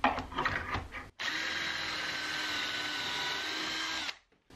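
A drill runs steadily for about three seconds, boring pocket holes through a Kreg jig into workbench drawer stock, a loud, even whine that starts and stops abruptly after some brief shop clatter.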